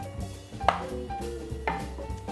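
Rough knife chopping of ingredients for an easy weeknight bacon mac and cheese, a few sharp close cuts on a board over a steady low kitchen hum, with faint clinks.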